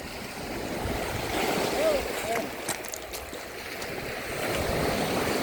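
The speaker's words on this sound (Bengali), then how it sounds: "এই যে সাগরে অনেক ঢেউ" Continuous rushing wash of sea waves nearby on the Northern Cyprus coast, swelling and easing, with faint voices in the background.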